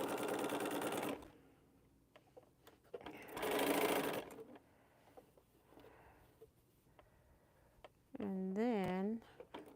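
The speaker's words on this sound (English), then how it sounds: "I'm just sewing this other side." A sewing machine stitches a quilt piece in two short close bursts, followed by softer handling noises and a brief tonal squeak near the end, with quiet gaps between.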